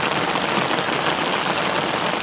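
Steady, dense rain patters on surfaces nearby beside a forest canal, a continuous hiss of drops with no voices.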